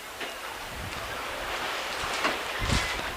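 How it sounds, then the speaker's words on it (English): Strong gusting wind buffets an open-air high school boys soccer match in El Reno, a continuous roaring rush with surging gusts that swell and fade across the moment. "Winds are gusting nearly 50 at this point."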